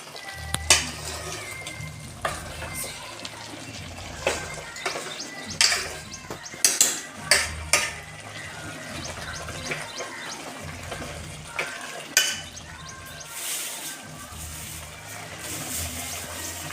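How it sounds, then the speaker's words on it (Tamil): Chicken gravy being stirred in a pan, a spoon scraping and clinking against the metal over a steady sizzle, with irregular louder knocks and scrapes close by. "இப்போ நம்ம நல்லா அதை கிண்டிக்கலாம்."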